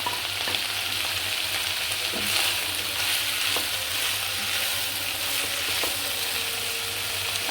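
Chopped vegetables sizzle steadily in a hot pan, with a constant frying hiss and a few scraping stirs of a utensil, close up and without talk.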